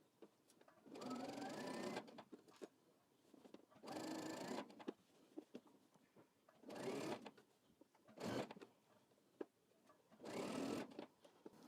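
A home sewing machine stitches along a fabric fold in five separate bursts of steady whirring, each a second or two long, with quiet pauses between them.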